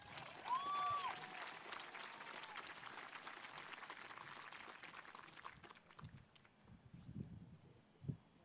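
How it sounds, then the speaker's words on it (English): Quiet audience applause at a 2021 high school graduation ceremony spreads through a large room for several seconds, then thins out as a voice begins speaking over scattered claps. "So please, at this time, give another round of applause for Ms. Christine Brown."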